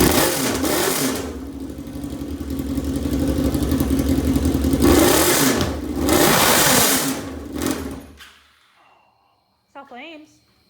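A motorcycle engine mounted on a lawnmower build fires up and runs loud and rough for about eight seconds with rising revs, then cuts off, leaving near silence and a short burst at the end.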